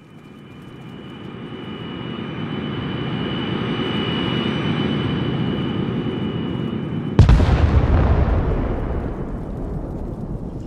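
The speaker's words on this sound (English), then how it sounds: "HQ Recon observing a fucking F-18 overhead" An F-18 jet passes overhead in the Arma Reforger combat game, a loud broad roar that swells steadily and then jumps to a sharper, harsher blast midway before easing off slightly.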